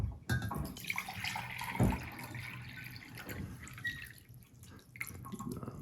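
Water poured into a pot of jasmine rice, close splashing and dribbling with irregular drips and gurgles, uneven in loudness throughout.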